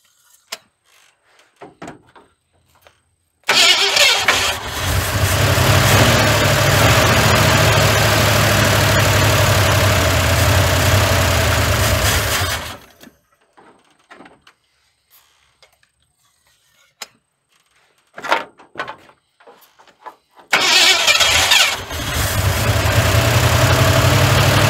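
A 1981 Ford F100 pickup with a 351W V8, long neglected and with a sticky throttle, cranks and fires into a loud idle, cuts out, sputters through brief cranking bursts, then starts and runs again.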